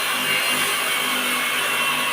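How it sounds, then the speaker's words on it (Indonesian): A power drill bores through a machete blade with a 5 mm bit, a continuous, close, harsh whirring grind that stays steady for a couple of seconds. "Lanjut kita bor ya"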